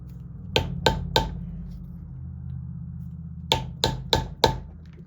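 A mallet striking a leather beveling tool during hand carving of a leather flower: three crisp taps, a pause, then four more sharp close knocks over a low steady background hum.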